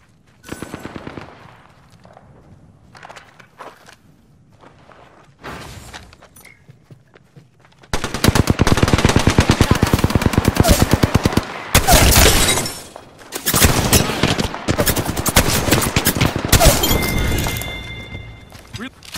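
Rapid automatic gunfire from the battle royale game Apex Legends, with scattered shots at first and then a long, dense, loud burst of rattling fire mixed with cracks and impacts.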